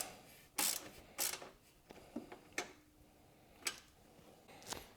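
A ratchet tightening a heat shield bolt on a KTM 790 motorcycle gives quiet, close bursts of sharp clicking, spaced irregularly with short pauses between strokes.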